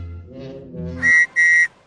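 Two sharp, piercing whistle blasts in quick succession, each lasting about a quarter second, sounding loud and close after a moment of quieter background sound.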